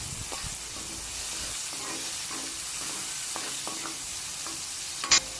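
Garlic and onion sautéing in a frying pan that was just used for frying, a steady close sizzle with light scrapes of stirring and a brief sharper clink near the end.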